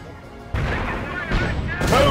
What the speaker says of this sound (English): Boom, anti-tank cannon firing.